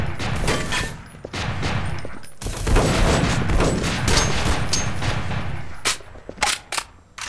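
Loud bursts of burst-fire weapon gunfire in E.Y.E., fast clustered shots rattling through a dense firefight, tapering into a few sharp separate bangs at the end.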